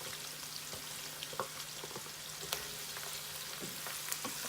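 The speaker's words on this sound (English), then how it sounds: "And once the garlic hits that oil," Minced garlic fries in hot oil in a pan with cabbage, shrimp, chicken and beef sausage, giving a steady close sizzle and crackle with occasional light pops and stirring scrapes, without talk.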